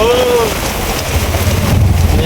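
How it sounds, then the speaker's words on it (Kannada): Heavy rain pours down in a loud, continuous hiss, with a brief whistling tone at the start and a low hum underneath. "ಇಲ್ಲಿ ಈಗ ಸ್ಟಾರ್ಟ್ ಐತೆ ನೋಡಿ ಮಳೆ"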